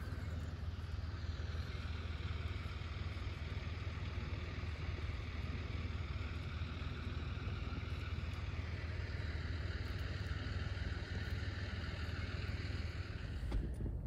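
A farm tractor engine drones steadily as it is driven off to be parked, a low continuous rumble at moderate distance that stays even throughout and cuts off near the end, with no talk.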